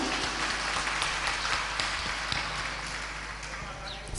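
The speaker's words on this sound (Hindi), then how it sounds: "तो आप ताली तो बजाओ उनके लिए।" An audience at a religious sermon claps in steady, dense applause that holds at an even level throughout without pausing.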